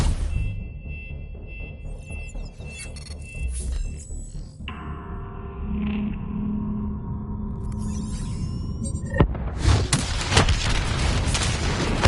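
A detonation in Call of Duty Black Ops III: low rumbling booms and a humming lull, then a loud broadband blast that stays heavy and roaring to the end.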